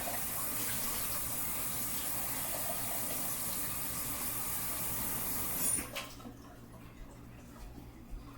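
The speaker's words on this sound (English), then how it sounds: "So if you hear the water running in the background," Tap water running steadily into a sink in a home kitchen, a constant broadband wash that stops abruptly near the end, leaving quieter room tone with small clinks.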